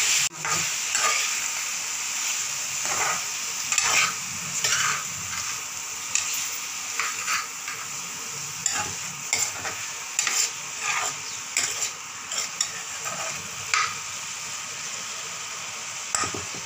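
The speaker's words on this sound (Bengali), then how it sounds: "খালি ভাজবো না, খালি একটু নেড়ে এবার চিকেনগুলো দিয়ে দেবো।" Chicken pieces are stirred around a pan for a quick homemade chicken soup, a soft continuous sizzle under irregular scraping and knocking stirs, close and fairly quiet, with no talking.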